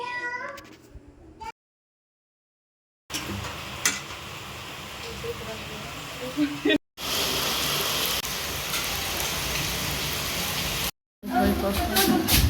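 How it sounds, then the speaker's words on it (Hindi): Steady monsoon rain falling outdoors while onion-and-flour pakoras and tea are made, a dense continuous hiss broken by abrupt cuts, with voices talking over it. "बारिश कंटिन्यूअसली हो ही रही है"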